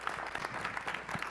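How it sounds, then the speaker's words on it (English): A small audience at a presentation gives a short round of applause, a brief flurry of distinct, fairly close claps at uneven intervals. "Can we give Seth another round of applause?"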